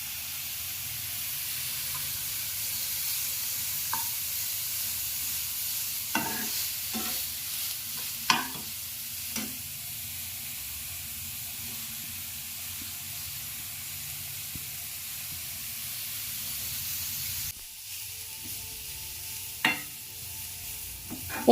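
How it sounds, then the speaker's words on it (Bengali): Cauliflower, carrot and cabbage fry and sizzle in a pan for a steady stretch, with a spatula scraping and stirring in occasional sharp clicks and knocks; no talking. "একটু নেড়ে নিয়ে এবারে আমি আদা রসুন পেস্টটা দিয়ে দেবো"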